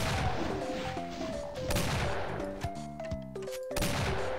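Weapon fire in the first-person shooter The Golden Souls, with a couple of sharp shots and crashing impacts ringing out over tonal game music and effects, no voices present.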